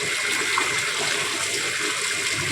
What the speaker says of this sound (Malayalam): ആ യെസ് ഒരു വാട്ടർഫോളാണ് കേട്ടോ